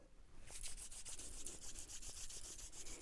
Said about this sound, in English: Can you show me how to scrub them?